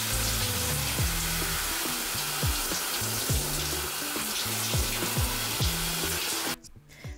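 Running water pours steadily over hair during a rinse after washing, a continuous close splashing hiss with faint rhythmic patter, which cuts off near the end.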